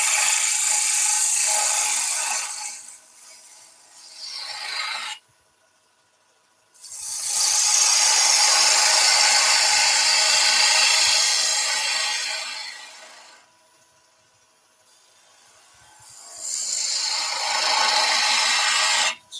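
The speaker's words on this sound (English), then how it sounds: "It's all bowl gouge at the moment." A bowl gouge cuts a basket weave vase spinning on a wood lathe, giving loud, steady shearing passes in three long bursts separated by brief near-silent pauses.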